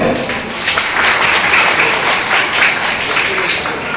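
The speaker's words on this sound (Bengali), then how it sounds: "সবাই একটা হাত তালি দিবেন" An audience of students and parents at a school program claps together in a loud, dense burst of applause that holds steady for a few seconds.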